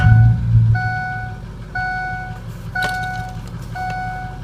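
A 2005 Ford F250 diesel 4x4 idles with a low, steady engine rumble heard from under the hood, while a repeating electronic warning chime beeps at regular intervals over it.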